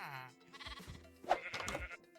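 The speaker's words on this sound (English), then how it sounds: "I started breeding the sheep so that I can unlock some more trades there too" Sheep in the Minecraft survival game bleat twice in quick succession, a wavering nasal call followed by a second longer, louder bleat, close and clear with no talking over them.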